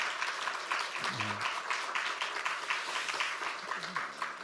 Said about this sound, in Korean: 박수로 한번 더 축하해 주시기를